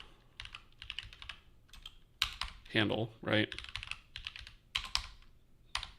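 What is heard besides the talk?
typing on a computer keyboard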